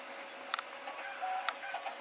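A Robo3D R1 3D printer prints a small-based hemisphere part, giving off faint whirring stepper tones with a few sharp ticks and clicks, quiet and close with no talking.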